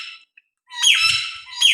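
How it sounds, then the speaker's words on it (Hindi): A parrot lets out loud, harsh squawks, two bursts close by with a short gap between them and nothing else around them. "और ये बैठा है मिट्टू और शोर"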